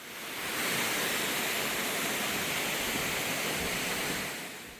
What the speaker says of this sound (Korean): 하악폭포도 내려가면서 보니 더욱 아찔한데요